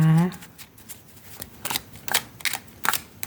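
Oracle cards riffle and slide in quick brushing bursts during a tarot-style reading, soft and close, with a brief voice at the start.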